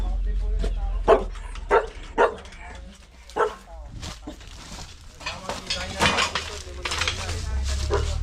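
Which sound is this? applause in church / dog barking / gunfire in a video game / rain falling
dog barking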